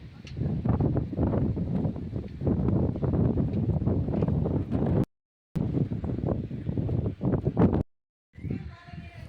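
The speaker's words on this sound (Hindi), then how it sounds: "बहुत ही सुंदर यहाँ पे हवा चलती हुई।" Steady gusty wind buffets the microphone outdoors on the road from Dehradun to Tehri Garhwal, loud and continuous with a couple of brief dropouts, while voices talk faintly underneath.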